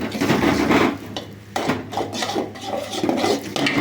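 Egg sautéed in oil with turmeric is stirred and scraped against the pan, a rough continuous rasping with clinks of the utensil and a soft frying hiss underneath.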